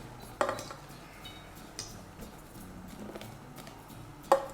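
Cream is being mixed into chocolate for a Lindt chocolate mousse, with a few sharp clinks of utensil against bowl and soft scraping in between, fairly quiet and spaced out.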